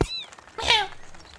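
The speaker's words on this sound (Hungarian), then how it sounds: "miau. Ezt hallgass." A cat meows in a golf video game: a short chirpy mew, then a louder, drawn-out meow with clear rising and falling tone, close and distinct against a quiet background.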